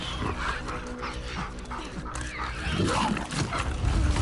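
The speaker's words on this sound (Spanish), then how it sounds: "El perro." A dog barking in The Last of Us Part II, heard as game audio: a few sharp, close barks and yips over dense background game sound that swells toward the end.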